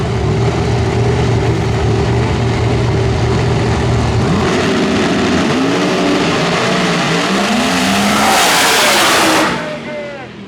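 Race cars running at a dirt or oval track event in Texas, engines roaring loudly and continuously with pitch sweeps as cars pass, a brief rising whine near the end, with an announcer talking over the din.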